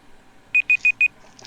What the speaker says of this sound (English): the timer just went